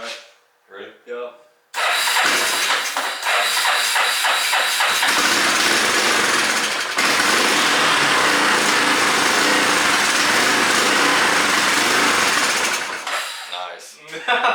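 A vintage Yamaha Moto4 ATV with a carburetor problem starts up and runs, its small engine giving a loud, continuous buzzing rattle close by for about ten seconds before dying down, preceded by brief voices.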